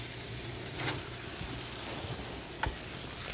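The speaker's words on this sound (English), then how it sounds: "Now that's sizzling nicely." Banana-crusted rockfish sizzles steadily in a hot pan, a close, continuous frying hiss with a couple of faint clicks and taps from cookware.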